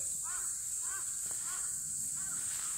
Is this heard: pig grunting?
no